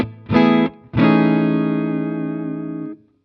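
Electric guitar through a Matchless clean amp model on a BIAS MINI amp, a short chord stab followed by a longer ringing chord that sustains and cuts off, loud and close with light effects.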